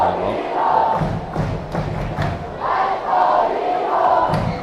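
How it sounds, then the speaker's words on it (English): A high school football stadium crowd at a game against Keaau swells in waves of cheering and shouting, with dull thumps, loud and surrounding. "The whole crowd picks up the volume."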